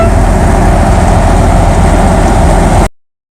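Jeep engine running steadily while driving down the road, a continuous loud broadband rumble of engine and road noise with no talk, cutting off abruptly near the end.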